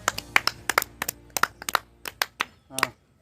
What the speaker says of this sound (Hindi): वाह, ताली।